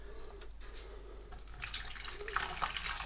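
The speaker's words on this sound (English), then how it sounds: "I'm just going to fill that with hot water out of the kettle" Hot, freshly boiled water from a kettle is poured into a container holding apples, a splashing, rushing stream that grows louder and brighter toward the end, close by.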